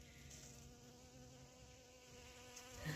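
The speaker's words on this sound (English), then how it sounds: "the bees are in there" Bees buzzing around squash flowers in a container garden, a faint steady hum that continues without a break throughout.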